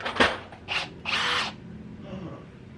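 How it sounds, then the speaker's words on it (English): A cordless power drill used while installing fender liners on a 2018 Jeep JK Wrangler Sport: several short whirring bursts, the longest lasting about half a second, fairly close, with no talking. "I do have another drill"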